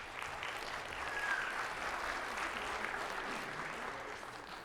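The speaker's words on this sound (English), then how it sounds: "so if you'd give them a big round of applause" Audience at a school jazz band winter concert giving a steady round of applause, a moderately loud wash of clapping that holds even from start to finish.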